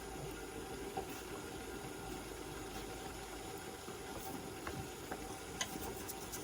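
A finger stirring pie dough ingredients, flour with sage and a pinch of salt, in a bowl: faint, steady soft rustling and scraping with a few light taps, no talking.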